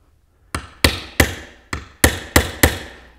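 Hammer and punch driving nails home into cedar while assembling a solid beehive floor: seven sharp, loud metallic-wooden strikes at a steady, slightly uneven rhythm, close up with no talking.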